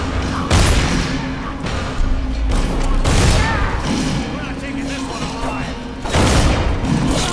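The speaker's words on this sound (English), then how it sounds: "They're shooting each other." Gunfire in Dishonored as figures shoot one another, heavy loud booming shots recurring every second or so over a steady low drone, with voices mixed in.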